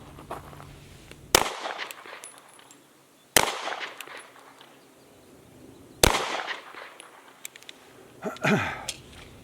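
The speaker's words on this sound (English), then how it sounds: "I'm gonna shoot the target on the left bottom from 20 feet." Three sharp, loud gunshots ring out at a target from 20 feet, spaced about two to three seconds apart, each with a short decaying tail. A softer rustle and clatter follow near the end.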